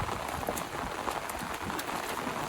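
Heavy rain falls during net fishing, a dense, constant hiss of drops pattering on surfaces, moderately loud and unbroken throughout the short stretch, with no voices.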